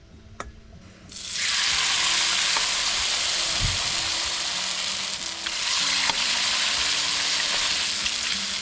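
Kangkong (water spinach) dropped into a pan of hot oil, loud steady sizzling frying that bursts in suddenly and continues, with occasional clinks of a utensil.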